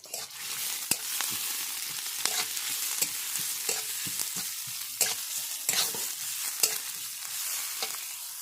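Chopped onion and green chili fry in oil in a pan, a steady close sizzle broken by sharp scrapes and taps of a spatula stirring at irregular intervals, with no talking.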